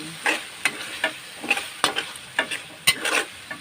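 Shrimp paste (alamang) frying in a pan with a soft sizzle and a run of sharp scraping stirs at an irregular rhythm, close and fairly quiet.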